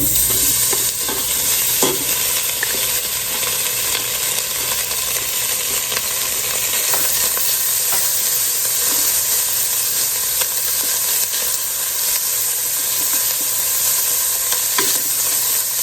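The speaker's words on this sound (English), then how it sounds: "the first thing we're going to do is go in and cook our bacon" Bacon frying in a hot pot as the first step of Southern-style black-eyed peas, a loud, dense, steady sizzle and crackle with no voices over it.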